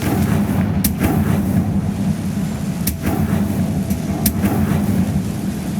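Confringo blasting curse spell firing in the Hogwarts Legacy video game, several sharp explosive cracks spaced a second or more apart over a rumbling, noisy game soundscape.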